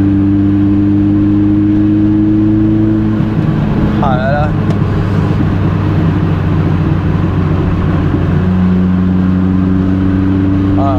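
A Renault 5 Turbo 2 engine hums steadily at idle, then climbs in pitch as it revs, loud and close, with a person speaking briefly over it.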